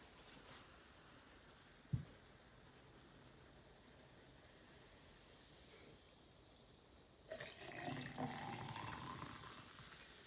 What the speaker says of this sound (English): I like to pour it kind of high so it'll stir up a little bit.